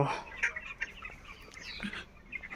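Chickens in a poultry farm cluck and chirp faintly at a distance over a steady, murmuring background, with scattered short calls and no clear single voice standing out.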